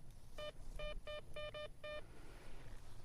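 A metal detector chirps over a buried target outdoors: six short, clean electronic beeps in an uneven rhythm, some in close pairs, over a faint background hiss.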